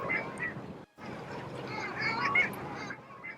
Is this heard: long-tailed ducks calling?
yes